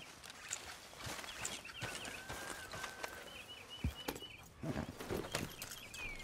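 Horse hooves clip-clopping at a walk in the video game Red Dead Redemption 2, a steady, fairly faint rhythm of hoofbeats with soft ambient birdsong.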